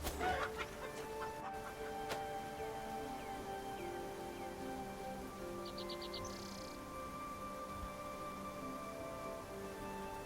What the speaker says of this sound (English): damn chicken